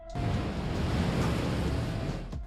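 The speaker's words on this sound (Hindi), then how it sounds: "कैमरा में कैद की गई बड़ी बड़ी लहरें" Big ocean waves crash in a continuous roaring wash of surf, loud and close, with a steady rumble and hiss and no voices.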